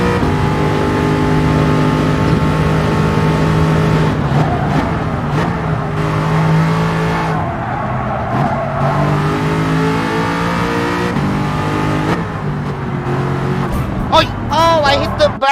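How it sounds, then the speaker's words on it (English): A Jaguar race car engine screams in Gran Turismo 7, a loud sustained high whine that rises and falls through gear changes and ends in a fast rising rev, with a voice talking over it. "If you guys can hear the scream of the Jaguar engine, it's just, wow, so good,"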